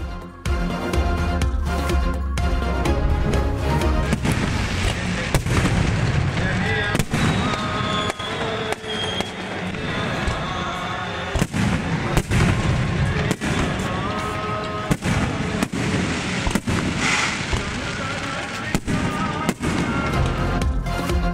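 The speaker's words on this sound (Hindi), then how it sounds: "आतिशबाजी का शानदार मुजाहिरा" Fireworks burst in a continuous barrage at a Guru Nanak birthday celebration in Nankana Sahib, with loud cracking reports and popping bangs repeating irregularly throughout, over a dense background of crowd noise.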